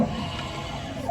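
Condor XC-Mini key cutting machine decoding a key, a steady close mechanical whirring hum with faint motor tones running continuously, no voices.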